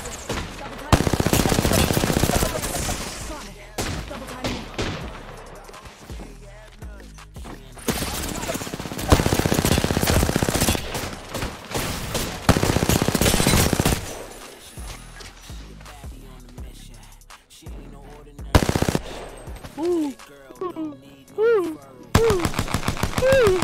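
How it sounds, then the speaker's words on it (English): Video game gunfire crackles in rapid automatic bursts separated by brief pauses, loud and close, with a voice talking at times between the volleys. "Why are you pre-firing me, Duffy?"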